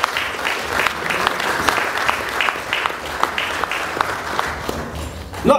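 Audience applause fills a testimonial dinner hall, a steady dense patter of many hands clapping close and loud for several seconds, easing slightly before fading at the end.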